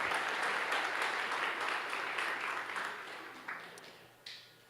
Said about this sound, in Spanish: un aplauso a Leo